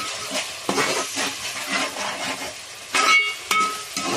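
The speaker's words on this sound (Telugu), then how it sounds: "ఈ ఉల్లిపాయలు అల్లం వెల్లుల్లిపాయ పేస్ట్ మొత్తం అంతా మంచిగా వేయాలి పచ్చివాసన పోయేదాకా" Onions, green chillies and ginger garlic paste fry in a pan for a crab curry, a close sizzle punctuated by scraping stirs and a couple of sharp clanks of a utensil against the pan.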